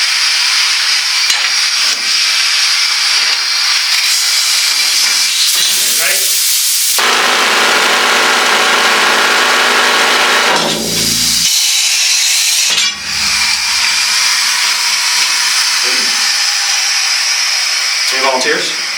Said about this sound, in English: This drill is what enabled them to do the vertical mining.